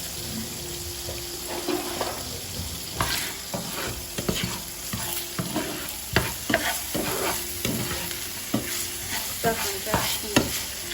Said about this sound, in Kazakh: Тұрған майымызға пиязымызды салып, кішкене қуырып аламыз.